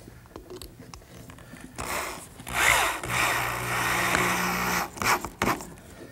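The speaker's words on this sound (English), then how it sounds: "You might have noticed that I'm using a square drive screw. They're real nice to drive." Power driver sinking stainless steel square drive screws into a wooden wheelbarrow frame, a close whirring burst that builds and holds for a few seconds, then stops with short follow-up bursts and clicks.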